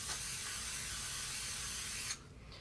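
An aerosol can of spray sunscreen lets out one continuous close hiss for about two seconds, then cuts off abruptly into quiet room tone.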